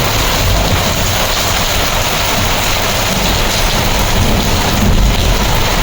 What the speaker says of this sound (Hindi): और इतनी भयंकर बारिश